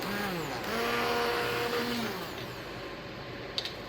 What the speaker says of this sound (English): we're back with the immersion blender. And I'm just going to turn it on high speed